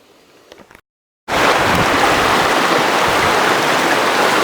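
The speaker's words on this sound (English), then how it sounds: "This is the way we're fording Mosquito Creek." Mosquito Creek on a Pennsylvania thru-hike, where hikers ford it on a makeshift bridge: a brief quiet stretch and a short gap, then a loud, close, continuous rush of flowing creek water to the end.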